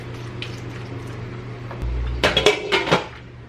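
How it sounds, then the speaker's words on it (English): Onions and asparagus are cooking in a pan. A low hum runs under them, then a cluster of clattering utensil scrapes and knocks against the pan, close and fairly loud. "I'll cook my onions and asparagus for a few minutes"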